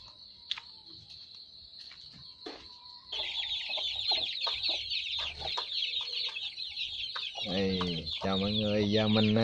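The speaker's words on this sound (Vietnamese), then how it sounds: "Mình sẽ ra cho gà con ăn." Chicks cluck and cheep busily in a coop at night during evening feeding, the chatter starting sparse and then swelling into a dense, continuous chorus, with louder nearby clucks toward the end.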